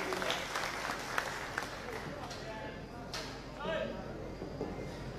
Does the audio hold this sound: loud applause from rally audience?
yes